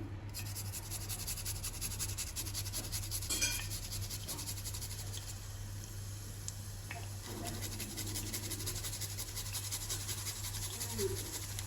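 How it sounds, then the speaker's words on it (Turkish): Two large garlic cloves rubbed over a grater give a continuous soft rasping scrape, fairly quiet and even, over a low steady electrical hum. "İki büyük diş de sarımsak rendeliyorum"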